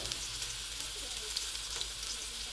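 Okra sizzles steadily in hot oil, a soft continuous frying crackle close by with no talking.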